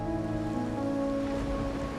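Steady, dense rain hiss from the video game Wuthering Waves runs unbroken through the whole stretch, with sustained musical tones layered underneath.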